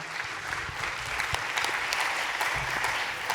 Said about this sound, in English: Round of applause for our panel.